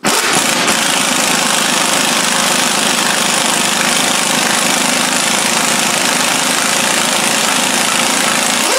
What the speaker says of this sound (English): get your air gun and pull it off.